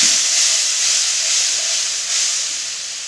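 Water added to frying cumin spice masala sizzles in a pan, a close, steady hiss that holds level throughout before easing slightly at the end.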